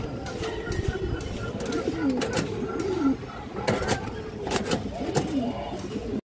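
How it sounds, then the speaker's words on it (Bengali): A female Bezi pigeon, currently moulting, coos close by in repeated throaty, rolling calls, with faint voices and other background noise underneath. "নিউ অর্ডার একটা বেজি মাদি কবুতর আছে"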